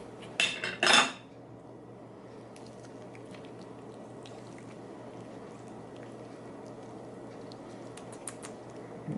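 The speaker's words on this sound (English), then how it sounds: "I highly recommend just scooping this out with a spoon. You can do cubes as well, just like so." A spoon scoops and cubes yellow dragon fruit in a quiet kitchen: a quick cluster of sharp metallic clinks at the start, followed by faint soft scraping over a low background hum.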